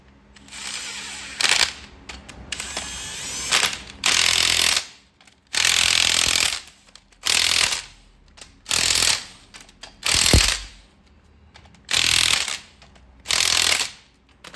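A ratcheting wrench tightens bolts on a Super Duty Dana 60 axle, giving a series of about nine loud, close bursts of rapid clicking separated by short pauses.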